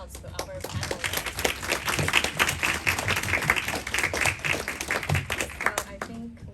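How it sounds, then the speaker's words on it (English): An audience at a panel discussion event for Asian women entrepreneurs in New York City breaks into steady, dense applause from many hands, filling the room at a fairly loud, even level throughout. "Let's give a round of applause to our panelists."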